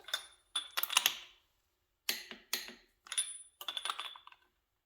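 A torque wrench tightens an injector bolt with a 21mm socket to 47 foot-pounds on a Toyota Hilux 3L engine rebuild, making sharp metallic clicks in close, separate bursts, with no talking.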